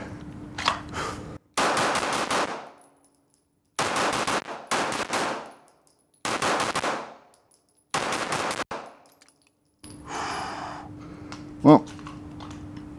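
Sig Sauer P226 XFive pistol emptying its last magazine: four loud, close strings of rapid shots, each lasting about a second, separated by short pauses, with a final single sharp report at the end and no speech.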